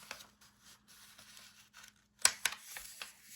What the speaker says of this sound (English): we're going to fold our paper this way